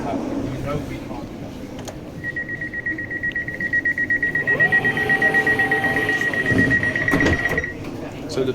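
A London Northwestern Railway train sounds a sustained door-locking warning tone over the low rumble of the carriage, with other brief electronic tones near the end and a voice speaking over it.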